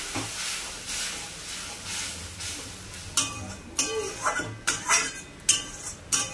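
Water poured into a pan of frying fish masala in a home kitchen, a steady hiss and sizzle followed by sharp clinks of a utensil against the pan.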